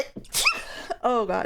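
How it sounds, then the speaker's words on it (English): A single sharp sneeze from a person, followed by a brief spoken exclamation. "Done sneezing forever."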